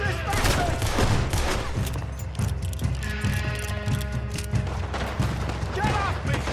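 Rapid gunfire in the video game Red Dead Redemption 2, repeated sharp shots in a dense fusillade with heavy low thumps, mixed with shouting voices throughout.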